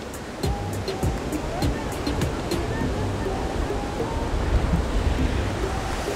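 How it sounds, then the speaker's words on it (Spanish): A large waterfall in Puebla, Mexico, the biggest in the country, roars as a continuous broadband rush of falling water. Wind buffets the microphone, and some faint, indistinct voices and light knocks sit under the steady wash. "se puede ver para abajo la cascada"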